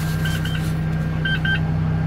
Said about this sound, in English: You're gonna hear that beep.